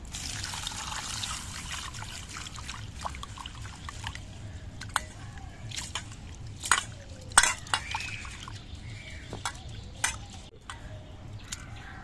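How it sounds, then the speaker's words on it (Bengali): Mung dal washed in water in a bowl for khichuri: steady trickling and swishing water with occasional clinks of grains and dish, close and continuous, no talking. "এবার এই মুগ ডালটা আমি একটু ধুয়ে নিচ্ছি"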